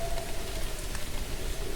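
Rain falls in the video game What Remains of Edith Finch, a soft, steady hiss of drops with light gusty texture, fairly quiet and unbroken.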